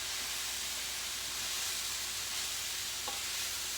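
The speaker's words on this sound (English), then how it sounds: "Now I'm just going to start stirring this into that hot meat." Egg roll filling is stirred into hot meat in a big skillet, giving a steady, soft sizzle and hiss that runs unbroken throughout, with faint scraping of the stirring underneath and no voices.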